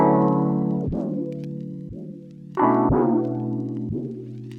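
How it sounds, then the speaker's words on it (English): A sustained droning synth tone with a sweeping, comb-like phasing shimmer from an automated delay used as a manual phaser, bending and shifting in pitch every second or so, played alone. "use delay as sort of like a manual phaser"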